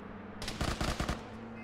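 A short rapid burst of automatic gunfire in Arma 3, about five quick cracks in a row at moderate distance, with a low rumble carrying on beneath and no speech.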